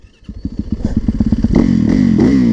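Street-legal supermoto motorcycle engine close by, opening with a rapid string of distinct popping bursts that build into a steady, loud revving roar.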